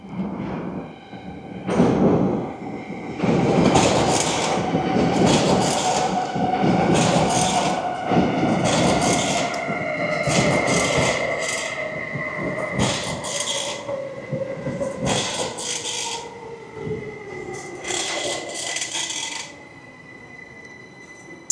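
The Voralpen Express, a Swiss scenic train, pulls into Göschenen station, a loud, close rumble with rhythmic clickety-clack wheel bursts over rail joints and a long falling squeal as it slows, with no talk.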